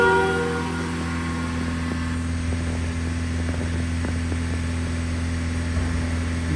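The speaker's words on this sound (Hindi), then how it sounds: "वो देखो डीएफ फुल है, आरपीएम भी देखो कितना हाई हो गया है" Mahindra XUV700 diesel engine held at high revs around 3000 RPM during a forced DPF regeneration, a steady sustained hum with a few faint clicks, close and continuous with no one talking.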